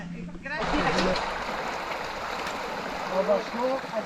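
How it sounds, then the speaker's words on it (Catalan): A small stream flows steadily while hikers cross it on an outdoor trail, its broadband rushing and splashing close and continuous, with a few birdlike chirps toward the end. "Hem de creuar un rierol."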